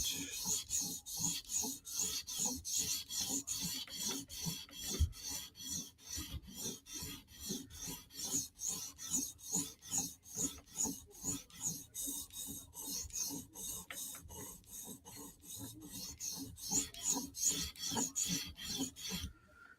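Knife blade stroked steadily across 800-grit Hapstone premium CBN sharpening stones for a polished edge, a continuous rhythmic rasping scrape repeating back and forth at close range with no talking.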